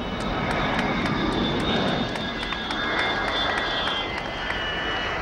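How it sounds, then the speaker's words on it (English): An Aer Lingus airliner arrives at Connacht Airport, also known as Knock Airport, on a flight from Dublin, with a steady, loud aircraft engine roar and whine sustained throughout and no talking. "Connacht Airport announces the arrival of Aer Lingus flight 4966 from Dublin."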